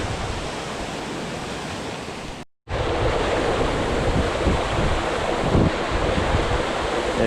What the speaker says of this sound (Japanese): 東椎屋の滝は落差が、85メートル直瀑の滝です。